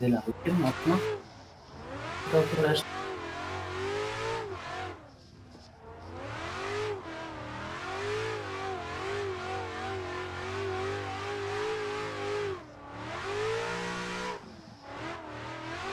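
A car engine in Assetto Corsa revs and shifts through gears, with a straight-through exhaust and induction noise, rising and falling pitch with an accelerating roar, continuous and fairly close.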